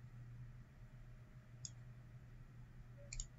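Two sharp mouse clicks, one near the middle and a quick double click near the end, sound faintly over a steady low hum while a user works in CAD software.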